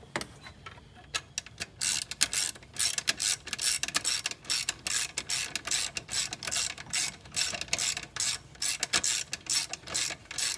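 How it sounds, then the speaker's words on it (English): A ratchet wrench tightens the drive belt on a Toyota Corolla 1.8 engine, giving quick irregular runs of sharp clicks, close and fairly faint, alone with no speech. "so now we're just going to tighten this, and it'll put tension on everything"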